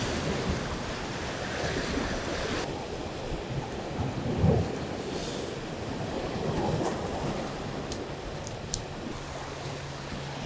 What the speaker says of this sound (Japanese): で軽く右から来るような波があって、でそれが合わさって水面に泡がすごいできてる。